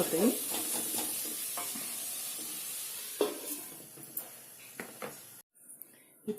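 Sliced onions with salt sizzle steadily in a hot pan for an egg curry, a spoon scraping and stirring through them in several distinct knocks and swishes, close and clear, with a brief drop to near silence near the end.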